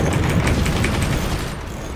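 A 20mm cannon firing in the Forts strategy game, a fast continuous run of thudding shots over a dense rumbling background.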